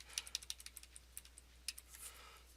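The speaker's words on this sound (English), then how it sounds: "I'm going to use the backwards and forward directional keys here." Quiet, crisp clicks of a computer keyboard as directional keys are tapped to step through animation frames, a quick run of separate taps followed by a few sparser ones, close and with no voice.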